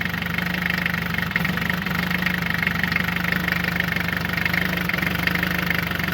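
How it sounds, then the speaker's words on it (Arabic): A steady engine idles roughly with a constant rattling vibration, close and loud, with occasional knocks and no voices. "الموتور فيرجف."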